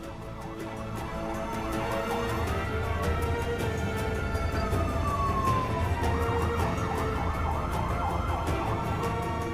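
Police car sirens wail loudly and continuously from several vehicles escorting a truck that carries the Ramses statue through Egypt, the rising and falling tones overlapping above traffic rumble.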